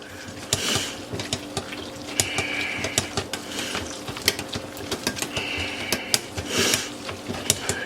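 A hand-cranked food mill works fresh tomatoes for spaghetti sauce, producing a continuous close grinding with dense irregular clicks and scraping ticks as the crank turns.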